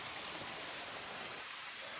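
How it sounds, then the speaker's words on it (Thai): A waterfall in a forest near a border village sends up a steady, broad rushing roar that is constant and even, with no voices over it. "โอ้น้ำตกสวยมาก"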